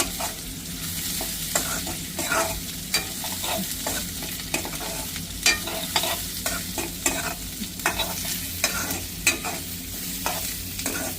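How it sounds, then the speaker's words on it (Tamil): Steady sizzling of beetroot frying in hot oil, with frequent scraping and tapping of a spoon stirring the pan throughout. "எண்ணெயில் நல்லா வதங்கி வரட்டும்"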